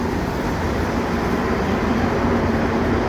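A Montreal Metro Orange Line train pulls out of the station, a steady, close rumble of wheels and motors filling the platform with continuous low noise and no voices.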